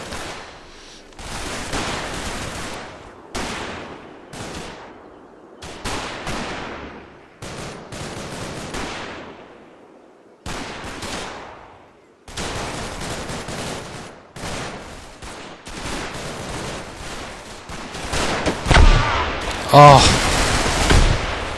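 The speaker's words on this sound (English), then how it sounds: "Come on, guys, shoot back!" Bursts of rifle and machine-gun fire from the World War II strategy game Combat Mission Market Garden come in repeated volleys separated by short gaps, growing louder toward the end, with a player's occasional exclamations over them.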